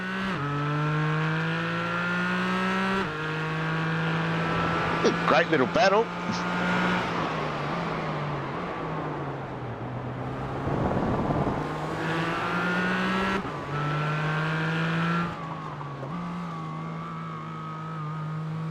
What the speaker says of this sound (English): You hear him just feathering the throttle through this long right-hand turn